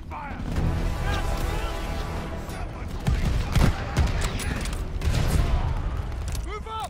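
Battle sounds from the Call of Duty Vanguard campaign: sustained gunfire exchanges and heavy booms rolling continuously, loud and close, with soldiers' voices shouting through the fighting.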